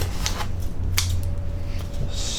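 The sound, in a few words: scissors cutting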